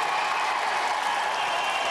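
Studio audience on a 1993 UK Gladiators heat applauding and cheering for a contestant, a steady, dense wash of clapping throughout.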